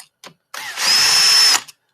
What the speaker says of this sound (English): So again, power drill and ratchets.